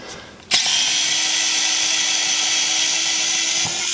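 A small electric screwdriver backs screws out, its motor kicking on sharply and holding a steady, close whine for several seconds before easing slightly at the end.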